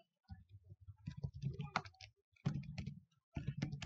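A hashcat command is tapped out on a computer keyboard in quick bursts of close, crisp key clicks separated by short pauses, with no voices.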